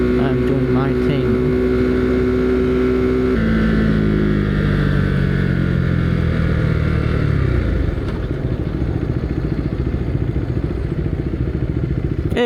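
A Husqvarna Svartpilen motorcycle riding the Blue Ridge Parkway, its engine droning steadily and loud throughout, with a falling pitch sweep as it slows near the end and wind rush over everything.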